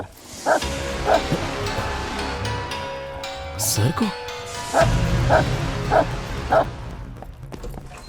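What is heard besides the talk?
dog barking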